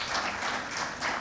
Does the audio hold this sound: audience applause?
yes